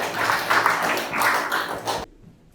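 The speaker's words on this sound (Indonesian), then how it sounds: "Beri tepuk tangan untuk Astiti" A classroom of students bursts into applause for a classmate, a dense burst of overlapping hand claps that swells in waves for about two seconds and then cuts off abruptly into near silence.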